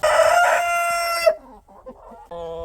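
A rooster on a chicken farm crows loudly and close by, one long call that tails off, followed by softer clucks and a short second call from the fowl.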